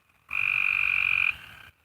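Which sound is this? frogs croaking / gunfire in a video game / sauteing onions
frogs croaking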